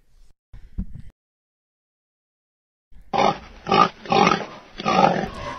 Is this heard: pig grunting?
yes